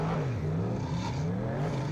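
A super stock race car runs on a speedway track at a New Zealand saloon car night meeting, its engine droning steadily with a wavering pitch, loud and continuous without a break.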